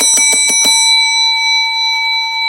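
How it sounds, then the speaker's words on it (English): A hand bell rung in a live radio studio, struck four quick times close to the microphone, then left to ring out in a long, bright, fading tone. "We have been gifted a bell."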